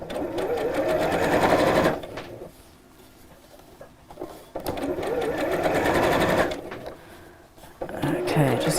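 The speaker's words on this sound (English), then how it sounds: "So on this machine it's 5, and just sew all the way around." A sewing machine set to its longest stitch length (5) sews around a project in three steady running bursts, separated by short pauses, close and clear.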